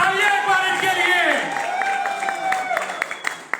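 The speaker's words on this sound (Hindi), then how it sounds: "जोरदार तालियां एक बार इनके लिए।" Loud, dense audience applause fills the hall, continuous clapping with some cheering and tonal voices riding over it, tapering slightly toward the end.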